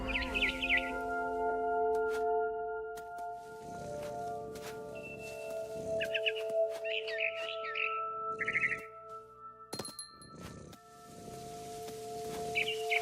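Barn swallow chirps in the video game What Remains of Edith Finch: short, bright twittering bursts scattered over a quiet ambient drone, faint and intermittent, with soft rustles and thumps between them.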